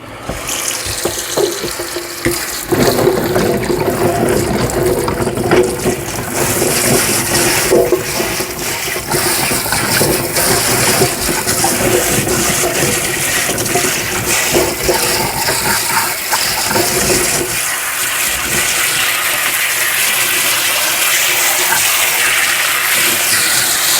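Fresh jalapeno peppers are washed under a strong running tap, a loud continuous rush and splash of water filling a sink that keeps going for over twenty seconds, with no speech.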